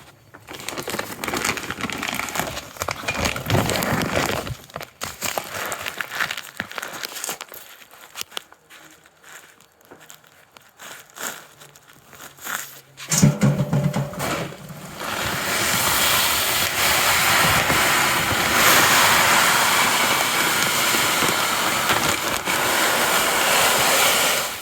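Salt from a 50-pound bag is poured into a water softener reservoir. Quieter handling noises come first, then a loud, sustained granular rushing hiss that fills the second half.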